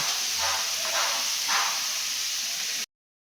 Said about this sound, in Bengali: এইদিকে ফুলকপিটা ফ্রাই হোক